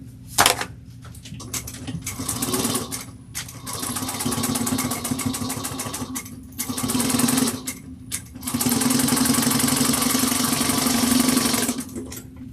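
A sewing machine back stitches at the start and end of a seam on a bowler bag, running in loud, rapid bursts that stop and restart, with brief gaps between runs.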